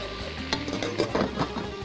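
Chicken for kabsa is stirred and fried in a pan, with scraping stirring strokes and soft clanks over a light sizzle, fairly quiet and close.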